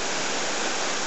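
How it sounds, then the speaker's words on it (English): Rapid river water rushing after heavy rain along the Thieves Road between Fort William and Dalwhinnie, a short, steady, close hiss and roar with no talk. "As you can see, the river's quite rapid today."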